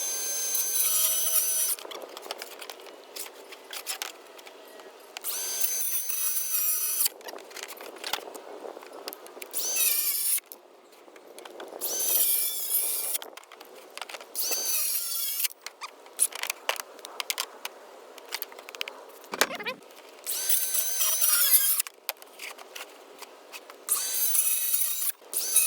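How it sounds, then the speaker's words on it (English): A cordless saw cuts through lumber in repeated loud bursts separated by short pauses, with the cutting noise coming and going over about twenty-five seconds. "I'm using this cordless saw for this."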